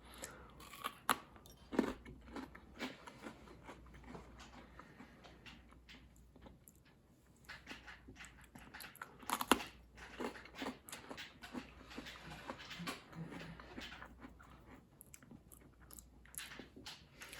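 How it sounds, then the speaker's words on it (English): Close, quiet crunching and chewing of an Oreo-flavored frosting-like sweet treat, soft irregular bites and mouth sounds with a couple of sharper crunches, no talking. "You bite into it, and the texture is still exactly like an Oreo"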